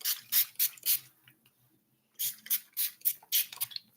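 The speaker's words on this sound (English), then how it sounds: "And then now I'm going to spray it." Several quick spritzes from a pump spray bottle onto 4c natural hair while detangling, two bursts of rapid hissing sprays separated by a brief pause, close and clear.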